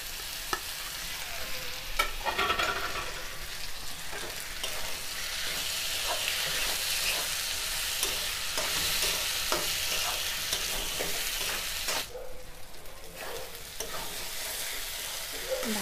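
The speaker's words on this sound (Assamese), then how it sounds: "মছলাখিনি ভালকৈ ভাজি লোৱাত ইয়াতে মই এতিয়া দিম বিলাহী।" Tomatoes frying with spices in a pan for a home-style mutton curry, a steady close sizzle running throughout with occasional stirring scrapes and a brief louder burst near the end.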